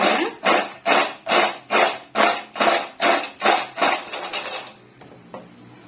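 Homemade Kurkure snack is shaken by hand in a container, making about ten crisp, crunchy rattling bursts in a steady rhythm that fade out at the end.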